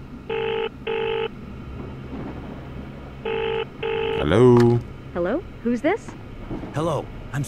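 A telephone rings in a horror video game, two pairs of electronic double rings close and clear, followed by a rising warbling electronic tone and bursts of synthetic sound.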